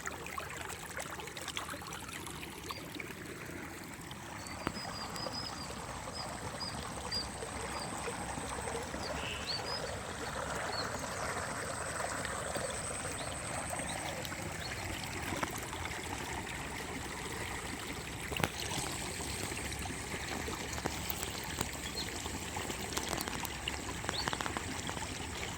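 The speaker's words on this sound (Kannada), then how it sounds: "ನೋಡಿ ಫ್ರೆಂಡ್ಸ್. ಇಷ್ಟೊಂದು ಜುಳು ಜುಳು ಜುಳು ಜುಳು ನೀರು." Water flows through an irrigation channel in a farm field, a faint, steady gurgling trickle that runs throughout under a broad outdoor background hiss.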